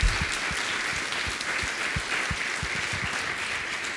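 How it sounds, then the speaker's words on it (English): Lecture audience in a university hall breaking into steady, sustained applause, many hands clapping at an even level for several seconds with no talking. "Let's give him a round of applause."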